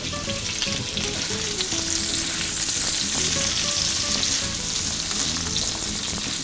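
Wild pork from a Hawaii pig trap frying in its own fat, a loud, steady close-up sizzle and crackle with occasional spatula stirring, continuous and without talk.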